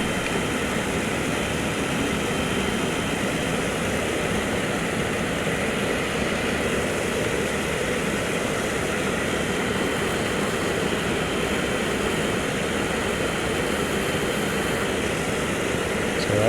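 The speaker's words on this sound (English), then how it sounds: "And you're going to want to sand the whole thing." Steady, loud whirring abrasion from 120 grit sanding on a silver zig-zag ring. It runs without a break and with little variation from start to finish.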